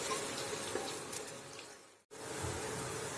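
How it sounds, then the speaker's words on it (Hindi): Steady crackling sizzle of onions frying in a pan, with light stirring scrapes and a brief dropout near the end before the sizzle resumes. "प्याज को हल्का सा गुलाबी होने तक फ्राई करेंगे"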